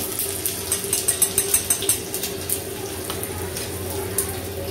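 Steady crackling sizzle of crushed garlic and green chillies frying in hot oil as a tempering for raita, with a few sharper spits and pops, close and continuous.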